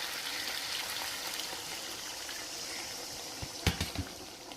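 Water poured into a pan of tangra fish jhal with cooked spices, giving a steady close rush that ends with a few soft splashes and knocks.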